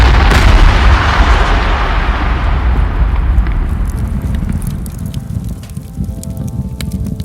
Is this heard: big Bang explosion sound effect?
yes